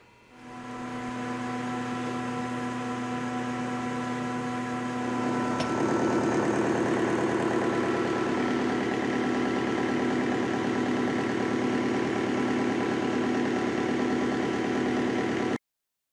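A metal lathe turns an interrupted cut on a round part at 440 RPM, giving a loud steady machine drone with tonal whine that steps up in intensity midway, then stops abruptly.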